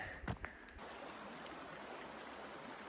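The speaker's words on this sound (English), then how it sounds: "Got the gorgeous sound of a creek behind us." A steady rush of flowing water from a creek on La Plata Peak fills the whole clip, broad and even, with a couple of brief knocks near the start.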